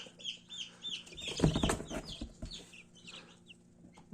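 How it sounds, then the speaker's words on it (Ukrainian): Newly hatched chicks of the Liven chicken breed, in a warm box under a heat lamp, cheep in a quick scatter of thin, high peeps, close by, with some soft rustling and handling noise. "Зараз ми сюди пустимо до них тих, що вилупилися ціпок."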